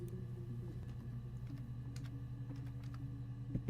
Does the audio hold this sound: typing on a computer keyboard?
yes